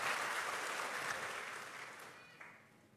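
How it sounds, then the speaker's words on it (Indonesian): Applause rises from a church congregation at a revival service in Kupang. The soft, dense clapping wash holds, then fades away over a few seconds. "Berikan tepuk tangan yang meriah."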